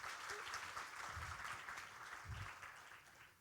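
An audience at an ASEAN youth summit session applauds steadily, a dense wash of clapping that stays fairly even and fades slightly toward the end, heard from a distance at low level.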